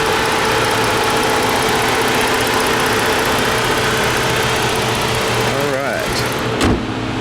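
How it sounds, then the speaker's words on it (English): A 2015 Ford Taurus SEL with its naturally aspirated 288-horsepower engine idles smoothly in a steady, loud hum close by, and a brief clunk or shift in tone comes near the end. "Smooth running engine, plenty of power,"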